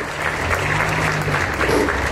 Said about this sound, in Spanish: Así es que fuerte el aplauso para ella,